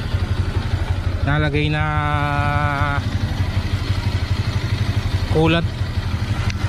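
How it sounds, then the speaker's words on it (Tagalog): A Sniper 150 motorcycle engine idles nearby with a steady, rapid low putter throughout, while people talk over it in between. "Ayan, pinantar natin, ano, ng naka-idle lang."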